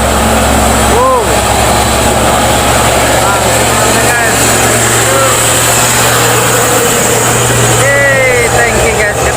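A Nissan diesel truck hauling a coal load strains with a loud, steady, low engine drone throughout, while faint voices and a few brief higher chirps come and go.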